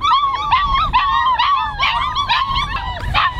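Several puppies howl and whimper together at close range, a continuous chorus of wavering high cries and yips being left outside, with no speech.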